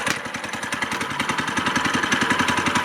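A Predator 212 small engine on a mini bike runs at a steady idle, close up, with a rapid even chugging pulse throughout and no voices.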